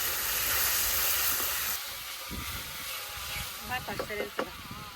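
A ginger-cumin spice paste with salt, coriander, chili and turmeric sizzles hard in a pan, the hissing easing as it's stirred, with someone talking near the end.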